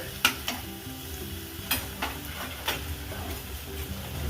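Prawn malai curry being stirred in a kadai: a spoon scrapes and knocks against the metal pan at irregular intervals over a steady low sizzle, close and moderately loud, with no talking.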